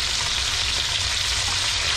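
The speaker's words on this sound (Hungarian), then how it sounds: "Itt még ugye a zsíradékot kiolvasszuk, és hát egy nagyon picit még ugye sütjük, ropogósabb legyen" Chicken wings sizzling in their own rendered fat in a pan, a dense, steady, close frying hiss without pause and with no talking.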